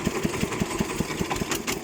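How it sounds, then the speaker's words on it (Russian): A Chinese Xingtai 244 tractor engine runs with a knock, a steady, rapid rhythmic thudding of about four beats per second, close and fairly loud with no talking. "Сегодня в этом же самом огороде у этого же хозяина двигатель застучал."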